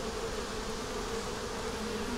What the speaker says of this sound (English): Need to move because I'm messing my bees up.